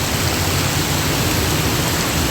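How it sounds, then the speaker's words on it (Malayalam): Heavy rain pours down outdoors in Kerala as a dense, loud, continuous hiss that stays steady throughout, with no talking. "എന്താ മഴ"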